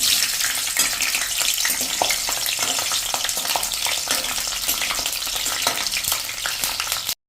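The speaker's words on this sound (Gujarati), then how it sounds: "તો પહેલા તો આપણા મરચાંના પીસ તળી લેશું" Green chilli pieces fry in hot oil, a loud, dense, continuous bubbling sizzle held close throughout and cut off abruptly at the end, with no voices.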